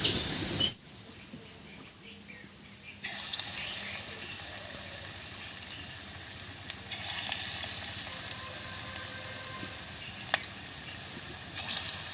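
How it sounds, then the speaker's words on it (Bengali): Radish pakoras deep-frying in hot white oil in a kadai, a steady, dense sizzle and hiss that swells loudly after a brief quieter start and runs continuously, close up, with no talking. "তেল গরম হয়ে গেছে এবারে ছোট ছোট করে পকোড়াগুলো ভেজে নিচ্ছি"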